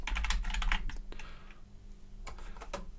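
Quick bursts of typing on a computer keyboard, a close, crisp flurry of key clicks at the start and a few scattered taps near the end, with no talking.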